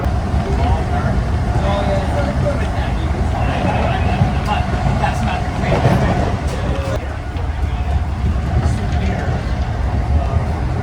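A double train rumbles and rattles continuously in New York, a loud steady roar of rolling wheels with a few metallic clicks, and voices faintly mixed in.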